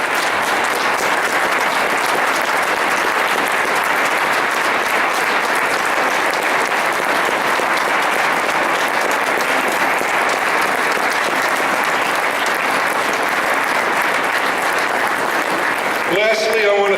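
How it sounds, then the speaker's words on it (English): A large audience at a veterans' ceremony claps continuously and loudly for well over fifteen seconds, an even wash of applause with scattered crowd noise, ending in a brief voice. "please stand and applaud those veterans present, those who could not be here, and those who gave their lives for our freedom"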